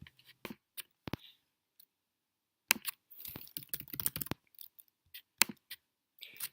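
Typing on a computer keyboard, scattered clicky keystrokes with a quick burst of rapid typing in the middle, close and dry, no voices.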